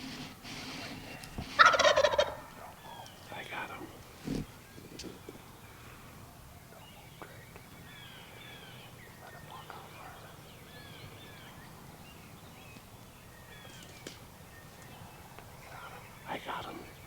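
A wild turkey gobbler in spring woods lets out one loud, close gobble near the start, followed by a quiet forest backdrop with faint rustling and a brief soft sound.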